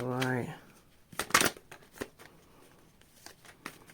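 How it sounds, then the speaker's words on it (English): A deck of tarot cards being shuffled, brief crisp riffles and flicks after a short spoken phrase, with quieter card rustles following at irregular intervals. "Last shuffle."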